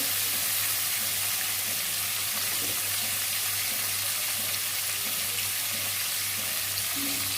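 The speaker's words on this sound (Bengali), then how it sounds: "এই পনিরগুলো ভেজে নেবো এবার হলুদ দিয়ে" Paneer pieces fry in oil with turmeric, making a continuous, even sizzling hiss heard alone at moderate level with no talking.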